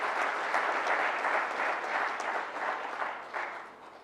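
Steady applause from an audience welcoming actor Rajkummar Rao at an event, a moderate wash of clapping that swells and fades slightly over about four seconds.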